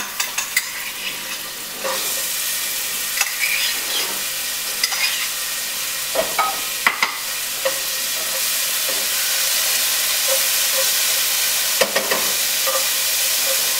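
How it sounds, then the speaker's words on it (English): Garlic frying in a little oil in a pan for a creamy mushroom and sun-dried tomato pasta, giving a loud continuous hiss of sizzling with occasional stirring clicks, rising steadily throughout. "I'm going to toss in the garlic, get that all cooking up"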